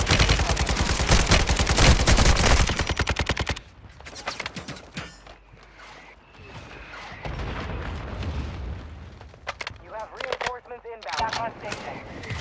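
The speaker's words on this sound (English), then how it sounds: "Mortar strike inbound." Mortar strike in Call of Duty: Modern Warfare II, a loud burst of rapid gunfire and blasts gives way to scattered booms, metallic clanks and radio-style voice chatter over lingering battle noise.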